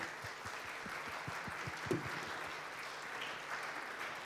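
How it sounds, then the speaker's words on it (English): Audience applauding award winners at a trustbuilding awards ceremony, steady broadband clapping filling the room at moderate level, with individual claps standing out near the front. "So one more round of applause,"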